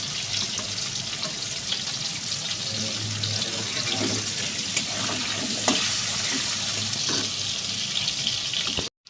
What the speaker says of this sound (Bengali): মাঝারি সাইজের কাটা আলুগুলো ছেড়ে দিচ্ছি তেলের মধ্যে। আলুগুলো তেলের মধ্যে হালকা ভেজে নেব।